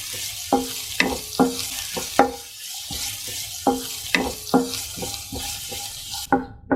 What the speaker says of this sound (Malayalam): നമുക്കിതൊന്ന് ചെറുതായിട്ട് മൂപ്പിച്ചെടുക്കാം.